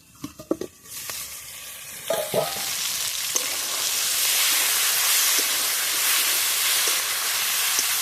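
Duck eggs frying in spice paste in a pan: a few knocks and clatters as the lid is lifted, then a strong, steady hiss of sizzling that swells and holds, close and loud.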